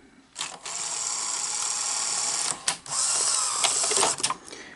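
A PAL Betamax VCR that eats tapes whirs and grinds as its motorized mechanism tries to eject the cassette, in two long mechanical runs split by clicks and short pauses, close up with no talking.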